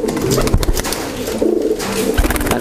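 A young permata pigeon chick coos close up in a few soft, throaty bursts, with faint rustling between calls.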